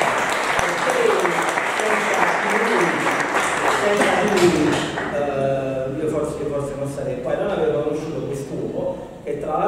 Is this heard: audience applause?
yes